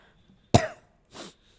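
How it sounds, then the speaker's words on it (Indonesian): A single sharp cough close to the microphone, followed moments later by a softer, breathy throat-clearing sound, otherwise near silence. "Maaf, saya agak rada batuk."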